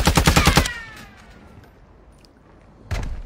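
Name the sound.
gunfire in Fortnite video game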